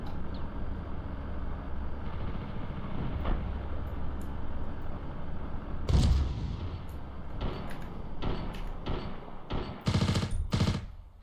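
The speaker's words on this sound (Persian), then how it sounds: "فقط صدای شیلیکاش میاد دیگه" Gunfire from the Ravenfield video game, with a dense bed of continuous rattle broken by several louder bursts of shots toward the end, no talking.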